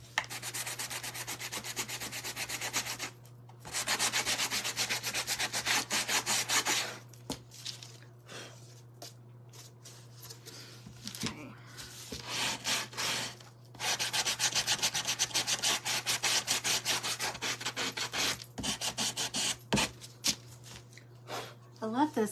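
A floral centerpiece craft piece is sanded by hand: close, steady rasping strokes in long runs, broken by short pauses, with a faint hum underneath.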